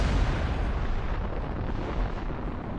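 Heavy artillery of the Paris Gun, the Kaiser's long-range cannon made of three welded barrels, rumbling as a sustained deep roar with no distinct separate blasts, loud and continuous.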